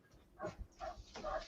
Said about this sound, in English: I gotta let my little dog out, Joey.